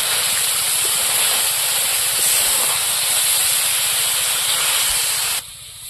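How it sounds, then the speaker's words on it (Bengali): Broccoli and liver sauté in a hot pan, giving off a steady, bright sizzling hiss that holds nearly constant and then cuts off abruptly near the end, close, with no voices. "এগুলো সব একসাথে ভালো করে একটু কষিয়ে নেব।"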